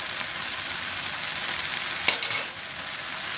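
Okra curry frying in a pan gives a steady, fairly quiet sizzle, with one brief stir or scrape near the middle of the clip and no talking.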